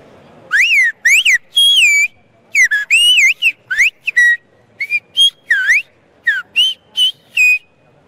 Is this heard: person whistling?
yes